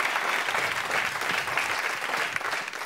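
A French TV studio audience applauds steadily, an even, dense roar of many hands clapping at moderate loudness with no pauses.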